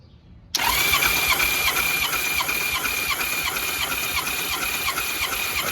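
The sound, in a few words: Honda GL1500 Goldwing engine cranking during compression test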